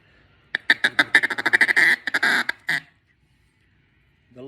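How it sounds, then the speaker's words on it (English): A hand-made duck call cut from Bois D'Arc hedge wood in a Yentzen style, sounded during reed tuning, gives a close, loud run of about fifteen quick quacks in a rapid chattering burst, then silence. "We got our high end quacking at least."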